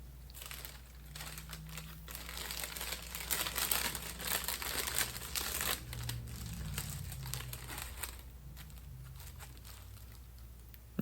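Foil wrapper crinkling around keto Halloween chocolates, a steady close rustle of crumpling foil that swells in the middle and eases off near the end, with no talk.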